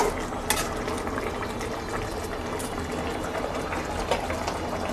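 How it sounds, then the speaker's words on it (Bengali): A pot of chanda fish curry gravy bubbles steadily, with a dense, even simmering hiss and soft popping, sounding close and moderately loud, with a few faint clinks of utensils. "ঝোলটা আর একটু ফুটলে তারপর নামিয়ে নেব"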